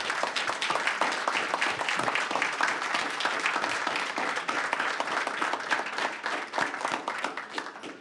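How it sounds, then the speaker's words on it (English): A crowd at a Veterans Day ceremony applauds steadily, many hands clapping in a dense, sustained patter that holds at an even level throughout. "And a round of applause for everybody one more time."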